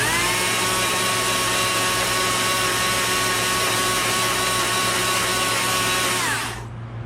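A chainsaw carving wood runs loud and steady at close range, its high whine holding for several seconds before cutting off abruptly near the end.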